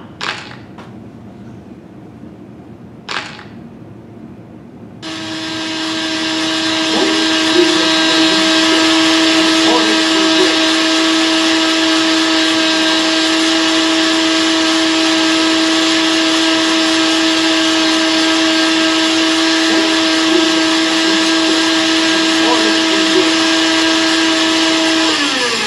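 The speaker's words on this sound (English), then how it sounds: "Watch while I put the eggs into the blender and mix them" A blender runs steadily for about twenty seconds mixing whole eggs, including yolk, white and shell, with a loud continuous whirring motor drone that starts abruptly after a few faint knocks and holds until the end.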